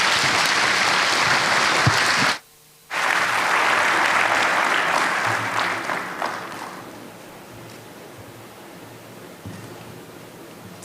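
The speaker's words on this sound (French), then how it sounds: "Mesdames et Messieurs, sous vos applaudissements." An audience applauds loudly at the opening of a presidential speech launching a technology initiative, breaking briefly for a moment of near silence before the clapping resumes and gradually fades out.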